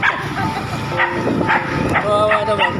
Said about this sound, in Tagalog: Ayun yung aso kaya to, sumasama sa amin.